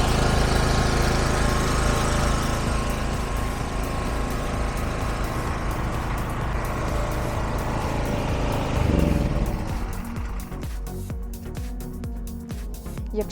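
Propane-fuelled generator engine running steadily up close, a loud continuous drone and rattle that shifts and eases toward the end.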